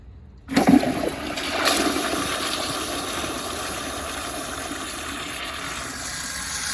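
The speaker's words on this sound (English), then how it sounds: "let's just put a rag in here and give it a flush" A 1994 American Standard toilet flushes with a rag inside the bowl, starting abruptly with a loud gush of water, then settling into a steady, rushing drain and refill that continues to the end, close by with no talking.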